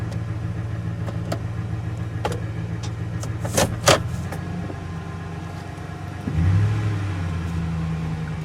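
An idling truck with a newly installed battery shifts through its gears, a low steady engine rumble with a few clicks and clunks, then a louder rise in engine pitch near the end.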